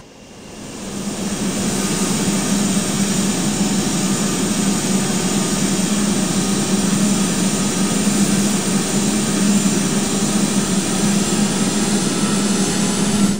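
A FedEx jet takes off from a foggy Providence runway, its engine roar swelling in the first two seconds and then holding loud and steady with a sustained low hum underneath.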